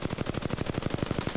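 Rapid automatic gunfire from an R99 or R301 in Apex Legends, a fast even stream of about fifteen sharp shots in under a second and a half, fairly quiet and with no talk over it.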